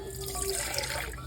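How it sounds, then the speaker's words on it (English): Warm water poured into a bowl for shark and bake bread dough, a close, continuous splashing trickle with small bright drips over a low background hum. "So you will need 2/3 cup of warm water,"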